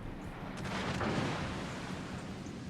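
Battleship salvos in World of Warships: Legends, a heavy rolling boom of artillery that swells and then lingers as a long, dense rumble, steady and fairly loud, with no speech over it.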